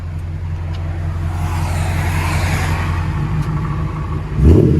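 A 2015 Toyota Tundra 1794 Edition with a 5.7 V8 and true dual Magnaflow exhaust with 14-inch mufflers idles with a deep steady rumble outside the truck, then swells into a short, loud rev at the end.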